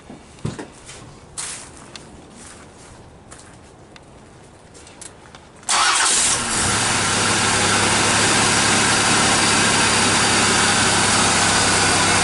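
A 1989 Buick Reatta engine with fresh spark plugs and wires cranks and catches at once, settling into a loud, steady idle, with faint handling clicks and rustles before the start.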